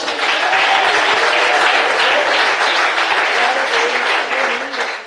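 A church congregation claps during a sermon, a loud, dense wash of applause that holds steady, with voices rising faintly within it before it tapers off at the end.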